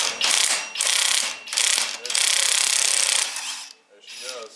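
On a BMW E36 undergoing a 1JZ swap, a power tool hammers in loud, close bursts of rapid rattling impacts, several long runs separated by brief pauses, before a bolt cracks loose and the noise fades.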